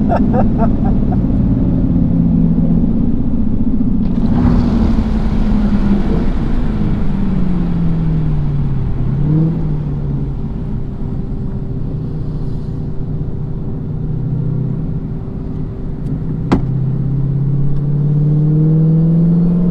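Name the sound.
drag racing car engine with tires spinning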